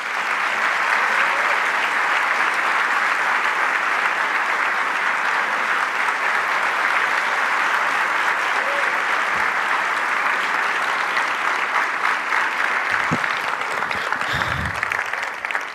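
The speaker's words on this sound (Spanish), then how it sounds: "le pedimos un muy fuerte aplauso para recibir al señor Presidente de la Nación" A large audience applauds steadily and loudly for Argentine President Javier Milei at an IAEF event, a dense, even roar of clapping that runs unbroken throughout.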